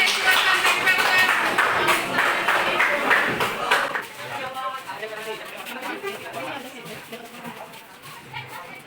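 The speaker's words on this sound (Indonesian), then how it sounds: "Kasih tepuk tangan untuk kita semua" A school classroom of children applauding together, a lively burst of clapping that thins after about four seconds into scattered claps mixed with chatter.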